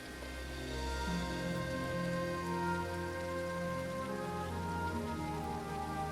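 Steady rain falls in the video game Stone Simulator, a dense, even patter of drops hitting surfaces that holds at constant loudness for the whole stretch, with no voices over it.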